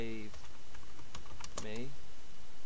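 Quick, close clicks of fingers typing on a computer keyboard, a short irregular run of keystrokes, with a voice speaking over the start and middle.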